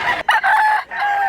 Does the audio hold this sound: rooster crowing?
yes